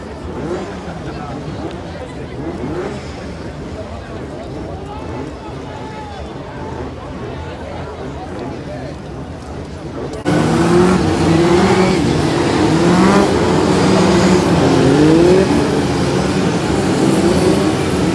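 Steady roar of BriSCA F2 stock car engines at Skegness drones throughout, growing louder and busier partway through as cars rev and whine past amid crowd noise.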